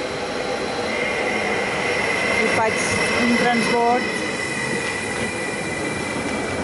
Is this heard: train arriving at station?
yes